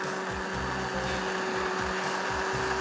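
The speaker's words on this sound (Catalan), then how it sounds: "I ara, a triturar la sopa." Electric blender pureeing soup with a splash of extra virgin olive oil, a steady loud whirring motor with rhythmic churning pulses throughout, running alone without talk.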